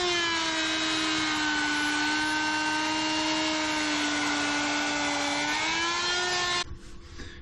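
An orbital sander grinds epoxy off a wood charcuterie board with an epoxy river, a steady high motor whine with rich harmonics running loud and unbroken for over six seconds before cutting off abruptly near the end.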